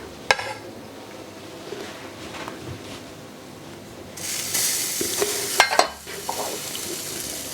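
Finely chopped, crushed garlic returned to a pan for spaghetti alle vongole: a low frying hiss that swells into a louder sizzle midway, with a few utensil clicks and scrapes nearby, no voices.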